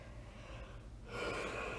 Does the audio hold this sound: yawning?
yes